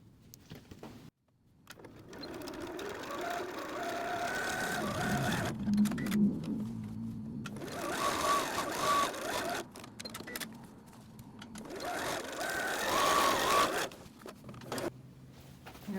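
A sewing machine stitches the side seams of a beach bag in several bursts separated by short pauses, each run whirring at close range with no voices.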